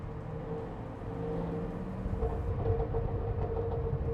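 A supercharged 2024 Cadillac CT5-V Blackwing luxury sports sedan's engine drones in a steady, deep rumble that grows slightly louder and rougher midway, heard from inside without talk.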